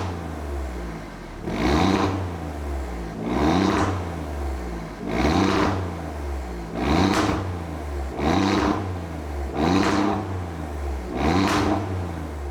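Alfa Romeo Quadrifoglio exhaust in race mode with the valve flaps open, giving loud, repeated revving pulses, about six swells at steady roughly two-second intervals over a constant low engine drone.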